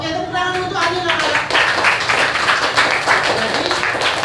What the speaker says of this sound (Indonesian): tepuk tangan untuk Ani